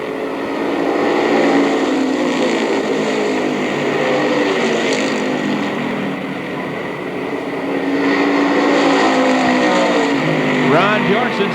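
Stock-style race cars roar around the Mt Clemens racetrack in 1984 as a pack runs side by side, a loud sustained engine drone swelling and easing, with an announcer talking over it.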